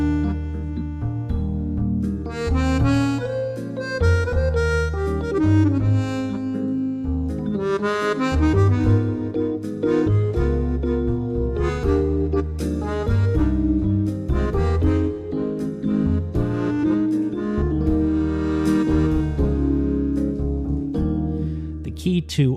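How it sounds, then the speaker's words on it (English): Digital accordion playing its Bassoon Lead user program, reedy melody lines over long held bass notes in a slow flowing phrase, steady and close with no talking. "The Accordion Bank number 1 is called Bassoon Lead"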